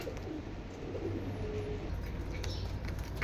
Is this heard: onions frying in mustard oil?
no